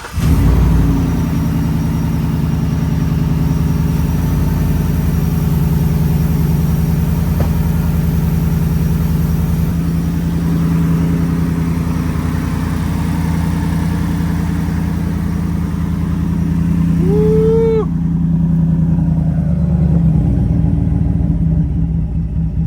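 Ford F150 truck fitted with an S&B cold air intake runs steadily near and loud, a constant engine drone that fades toward the end with a brief chirp-like sweep; no talk.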